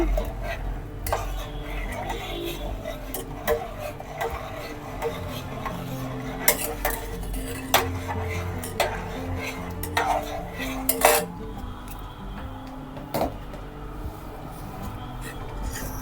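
Molasses being stirred into boiled, spiced milk in a cooking pot, with sporadic utensil clinks and scrapes against the metal over a steady low background hum.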